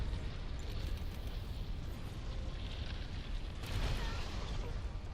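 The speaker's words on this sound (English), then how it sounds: "that's the large explosion that you really can't avoid in here" A large explosion in the Monster Hunter World game: a sustained, rumbling low roar of blast noise with a brighter burst near the end, fairly quiet overall and without distinct separate bangs.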